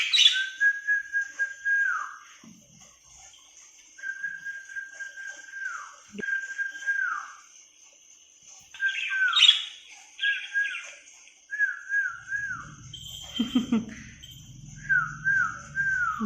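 Repeated rising and falling whistles from a person alternate with chirps and squawks from pet lovebirds near a new nest, the bird calls answering in short bursts over a quiet room.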